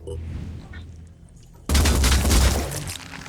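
A gunshot in the tactical strategy game Phoenix Point bursts in loud and sudden after a quieter stretch, then rumbles on with a broad, booming tail.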